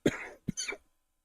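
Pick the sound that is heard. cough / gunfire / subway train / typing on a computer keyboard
cough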